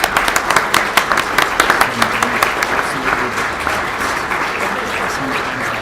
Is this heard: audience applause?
yes